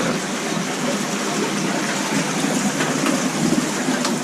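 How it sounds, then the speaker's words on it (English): Water rushes and gushes steadily as a koi pond is drained, a loud, dense, continuous flow with no breaks or voices. "Starting by draining the pool."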